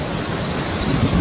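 Rakhikol waterfall roaring with splashing water, a dense, steady wash of noise heard up close for a brief moment, swelling slightly louder toward the end.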